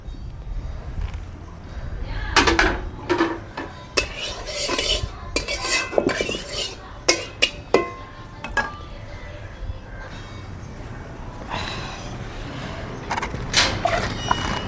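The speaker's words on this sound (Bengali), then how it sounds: "এবার কড়াইয়ে একটু জল দিয়ে কড়াইটা ধুয়ে নেব" A wok is washed out with a little water: metal scrapes and clatters in bursts, up close, with quieter swishing stretches between the clanks.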